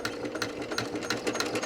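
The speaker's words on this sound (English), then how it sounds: "I'm going to go ahead and do a seam right in the middle of the seams that we just did" Sewing machine stitching a seam across a fabric potholder, a steady rapid mechanical chatter of needle strokes running continuously, close and loud with no talk.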